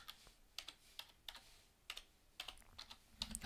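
Someone types on a Logitech computer keyboard, a quick run of crisp, close key clicks in short irregular bursts with brief pauses and no talking.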